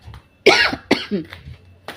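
One person coughing harshly a few times up close, with a rough, throaty rasp between the bursts.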